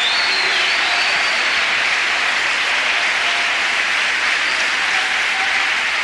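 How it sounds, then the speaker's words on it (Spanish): Sustained applause from a large crowd, dense and steady, continuing without a break. "Un aplauso para el Señor"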